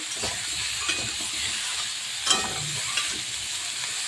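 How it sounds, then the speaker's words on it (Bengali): Bottle gourd stirred in a pan while it cooks with snakehead fish in a curry, giving a steady close sizzle with a few soft scraping knocks of the stirring spoon, no voices. "এবার নেড়ে চেড়ে এই লাউয়ের কিন্তু জল ছেড়ে দেবে।"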